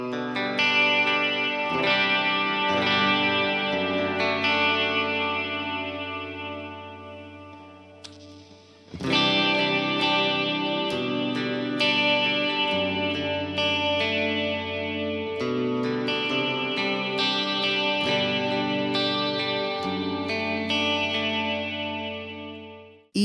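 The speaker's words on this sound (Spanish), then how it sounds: "dependiendo de la cantidad de reverb, él me va creando un ambiente al estilo Worship" An electric guitar runs through a multi-effects pedalboard set for a worship-style ambience, with sustained chords and arpeggiated notes washed in long reverb and shimmer. The sound swells, drops briefly, then rises again into a full, lingering wash, with no voice.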